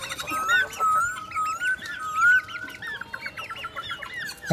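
Fayoumi chickens kept in a cage and fed rice cluck and chatter close by. Their short, rising and falling calls overlap in quick, uneven bursts, with a sharper squawk at the end.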